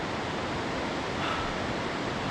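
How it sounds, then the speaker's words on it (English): The silty, glacier-fed South Puyallup River in Mt Rainier National Park rushes as a steady, dense roar of broadband water noise, close and constant, with no voices. "There's the mighty South Puyallup River."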